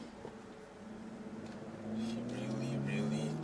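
A car passes by on a road, its engine hum rising and swelling in the second half, heard under talking.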